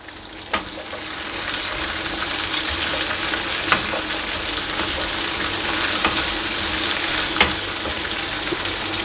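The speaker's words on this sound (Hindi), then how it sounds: "तमाम सब्जियों को मैं 1 मिनट के लिए सौटे करूंगा।" Vegetables and onion sautéing in a hot pan give off a steady, close sizzle with a few sharp clicks of stirring, continuous throughout with no voices.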